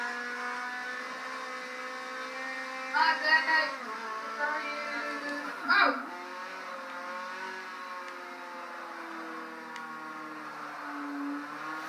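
An Audi in the video game Forza 5 drives with a steady engine drone and harmonic hum, rising in a few brief revving surges around the middle before settling back to a constant tone.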